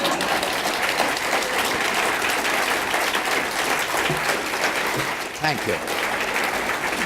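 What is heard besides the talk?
conference audience applause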